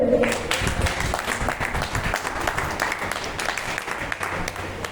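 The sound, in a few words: applause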